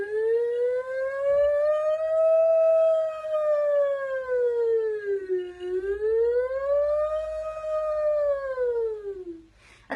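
A single human voice imitates a police and ambulance siren: one loud, sustained wail that rises and falls in slow sweeps for about ten seconds, with no other sound.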